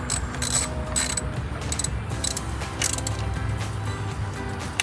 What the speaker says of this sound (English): take your 10mm socket and ratchet and tighten them up